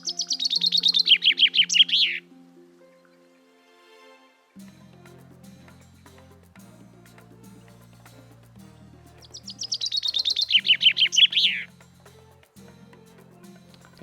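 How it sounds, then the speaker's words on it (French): Two bright bursts of birdsong chirp about ten seconds apart, loud and close, with quiet low rumbling in between. "Et puis il y a toujours le chant des oiseaux"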